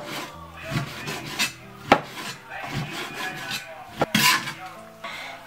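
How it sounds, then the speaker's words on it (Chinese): A knife slicing 600 g of beef on a wooden board, uneven rubbing strokes broken by a few sharp knocks of the blade against the board, close and without talk. "将牛肉先给它切片"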